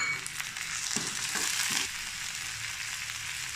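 Peas drop into a pan of onions frying to light brown, and a steady loud sizzle continues throughout with a few soft thuds and scrapes early on, close and without voices.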